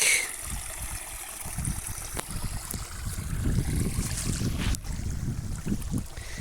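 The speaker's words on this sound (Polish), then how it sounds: "A tutaj właśnie sobie płynie bardzo fajny strumyk." A small stream flowing, a soft steady burble and trickle of water heard close by, fairly quiet and alone without any talking.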